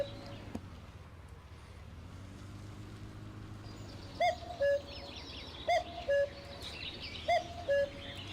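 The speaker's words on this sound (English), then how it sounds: "Sounds like a little cuckoo bird." A cuckoo in the video game Farming Simulator 17 calls three times, each a clear two-note call, evenly spaced over a low steady hum with faint chirps in the background.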